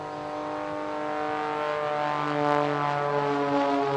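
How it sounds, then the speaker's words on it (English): A Pitts Special S2S aerobatic biplane at Bournemouth Air Festival 2023 roars overhead, its propeller engine holding a steady buzzing drone that swells slightly as it passes, loud and without talk. "a Pitts Special S2S, but now providing more aerial spectacular entertainment"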